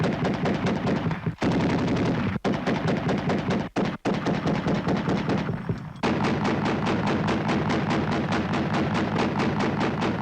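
A 20 mm cannon in the Tourello T20-13 turret of an AMX-13 fires long, rapid bursts of closely spaced shots, loud and close, with only a few brief pauses between strings of fire.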